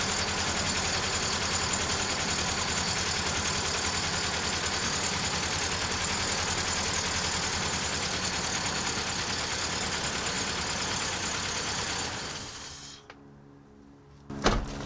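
A bi-fuel truck engine idles with a steady, close mechanical drone and low rumble for about twelve seconds, then cuts out abruptly into near silence with a brief knock at the end.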